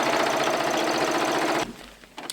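A sewing machine runs steadily and loudly for about a second and a half, stitching the side seams of a drawstring bag, then stops abruptly, leaving quiet handling noise.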